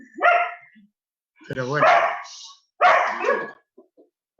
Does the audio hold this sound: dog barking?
yes